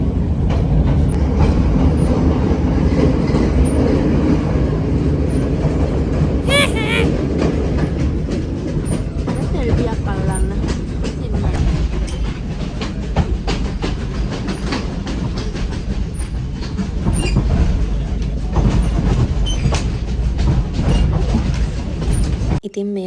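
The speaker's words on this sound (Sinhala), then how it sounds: "ඉතින් මේ වෙලාව ඇත්තටම නයිට් මේල් ට්‍රේන් එකේ යනවා කියන එක මාරම වයිබ් එකක්." Aboard a night mail train running on rails, a loud, steady rumble of carriages fills the clip, with rhythmic clickety-clack from the wheels rolling on continuously throughout.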